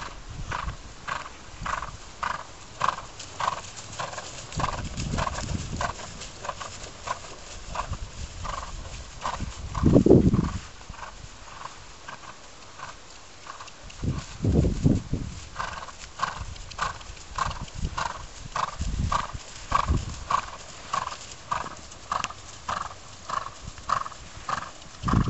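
A horse ridden cross country trots with a steady, rhythmic clip-clop of hooves, close and continuous, broken by two loud whinnies partway through.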